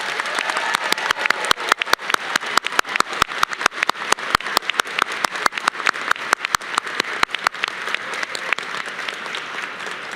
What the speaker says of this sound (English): Can we have another round of applause for Yaman?